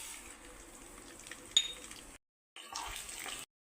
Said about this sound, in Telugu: ఇప్పుడు మందపాటి గిన్నెలో మనము ఆయిల్ అయితే వేసేసుకున్నామండి. ఇందులోకి నువ్వులు వేసేసుకుందాం.